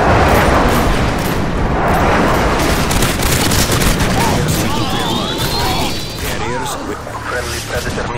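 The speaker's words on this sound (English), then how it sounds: "Airstrike on the way." Airstrike explosions in Modern Warfare 2 on the Highrise map in Ground War: a dense, continuous roar of blasts and booms, loud and sustained, with game voice callouts and effects layered over it.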